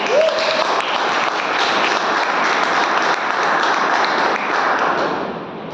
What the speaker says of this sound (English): So big round of applause to everyone.